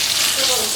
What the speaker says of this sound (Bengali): পটলগুলোকে অল্প একটু তেলের মধ্যে রেখে নিচ্ছি আমি